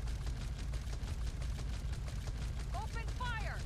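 Rapid gunfire from a video game firefight rattles in quick, evenly spaced bursts at fairly low volume, ending with a few short whistling tones over the shooting.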